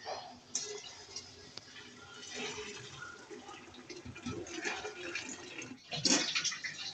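Cooked haleem lentils are poured from a small pot into a bigger cooking pot, giving faint soft sloshing and splashing with a louder clatter of the pot near the end.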